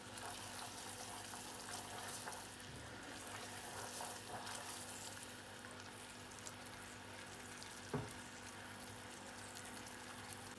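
Sugar caramelizing in a pan being stirred, giving a faint, steady sizzle and crackle with soft scraping and one small knock near the end.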